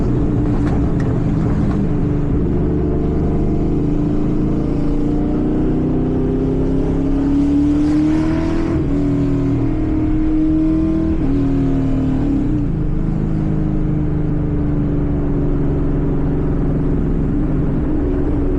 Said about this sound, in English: these Porsches are really fucking hitting it